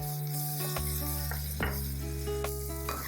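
Chopped green chillies sizzle steadily in a pan of hot oil with garlic-ginger paste while making Jaipur-style aloo pyaaz kachori filling, a loud continuous crackle broken by a few stirring scrapes.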